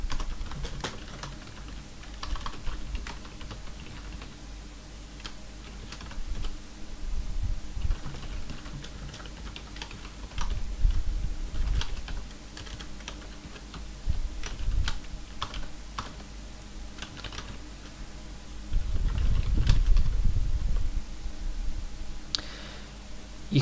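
Rapid bursts of typing on a computer keyboard as test code is written, close and fairly quiet, with uneven rhythms of key clicks, short pauses and a few heavier clusters of keystrokes.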